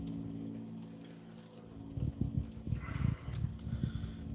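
A dog moves about close by, with soft jingling and scuffling, a few snorts and thumps over a low steady hum indoors, and no speech.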